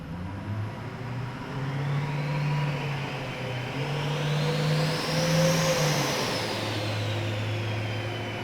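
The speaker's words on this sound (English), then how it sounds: "We got Mike here running the dyno" Compound-turbo Duramax diesel pickup running on a dyno, a loud steady engine drone that swells as revs climb, with a rising turbo whine and exhaust roar close by.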